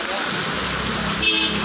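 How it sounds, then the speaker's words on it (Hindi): Heavy rain pours down a short way from home on a day that was partly sunny, a dense, steady hiss of drops hitting surfaces close by with no break. "ये नहीं सोचा था कि बिल्कुल घर से थोड़ी दूर चलते ही बारिश हो जाएगी"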